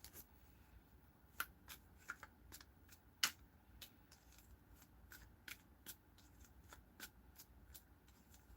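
A deck of tarot cards is shuffled by hand in a quiet room, giving a string of sharp, irregular riffling snaps and soft slides, close and fairly faint, with no talking.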